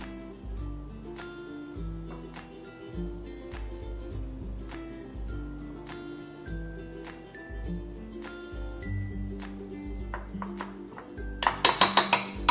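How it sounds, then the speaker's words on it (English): A fork clinks and scrapes around a bowl while mixing egg and butter cookie dough from a toy baking playset, a steady run of light metallic taps with a brighter burst of clinking near the end. "Now I'll go in with a fork and mix it together."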